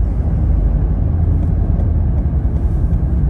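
Steady low road rumble and engine hum fill the cabin of a 2016 Ford Mondeo 2.0 TDCi Vignale estate on the move, continuous and fairly loud with no voices.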